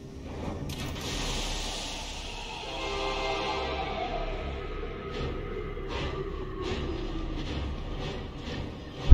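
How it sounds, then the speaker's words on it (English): A train in the video game Oddworld: Soulstorm, a steady rumbling ride with a screeching, sliding start and rhythmic clacks later on, with no talk. "Let's go back on the train"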